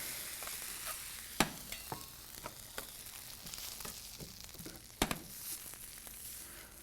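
An egg patty fries quietly in a pan, a soft sizzle with a few sharp clicks and scrapes as it is turned, no talking.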